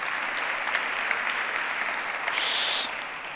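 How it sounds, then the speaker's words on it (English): Audience applause fills a keynote hall at a tech conference, a dense steady patter of many hands clapping that swells briefly near the end before easing off, with no voices over it. "thank you very much for an applause for the last ones"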